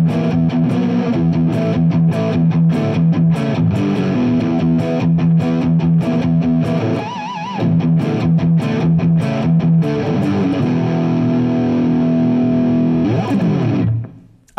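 A Framus Wolf Hoffmann WH-1 electric guitar on its middle pickup position plays a heavy distorted riff: loud, chugging palm-muted chords with a brief pause and a wavering sustained note, ending on a ringing chord cut short.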